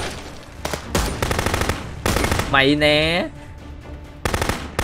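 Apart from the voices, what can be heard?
gunfire in the video game Contraband Police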